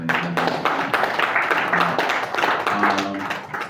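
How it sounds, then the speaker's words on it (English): An audience at a business event applauds, a sustained patter of many hands clapping, fairly loud and continuous throughout, with a voice faintly mixed in. "a round of applause for Nigeria"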